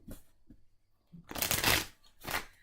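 Tarot cards shuffled and pulled from a deck: a few soft taps, then two loud, riffling bursts of card shuffling close to the microphone.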